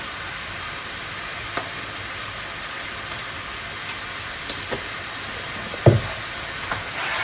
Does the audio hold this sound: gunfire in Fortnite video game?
no